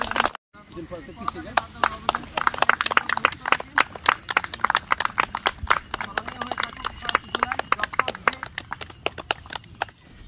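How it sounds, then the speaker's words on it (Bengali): An audience at a felicitation ceremony for a morning walkers' welfare association claps together in a sustained round of applause, a dense patter of hand claps that holds steady over the whole stretch, heard from nearby within the crowd. "আপনারা করতালির মাধ্যমে"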